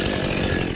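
A chainsaw cutting trees hundreds of feet up gives a short, loud, steady buzzing drone, heard alone without talk.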